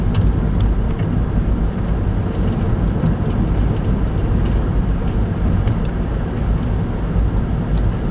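A car driving on country roads, with a steady, loud, low rumble of road and engine noise that carries on without a break and no voices.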